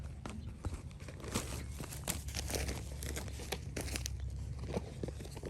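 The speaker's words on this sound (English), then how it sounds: "it comes nicely wrapped up in some sort of plastic. We're just going to undo this." Plastic wrapping being pulled off a new Toro Recycler mower bag, continuous close crinkling and rustling with brief tearing crackles throughout.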